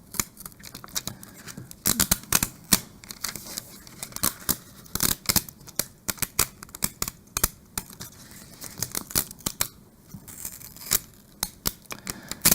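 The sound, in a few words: weeding vinyl cut with a Cricut, peeling and tearing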